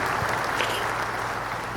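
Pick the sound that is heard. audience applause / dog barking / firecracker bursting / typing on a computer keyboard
audience applause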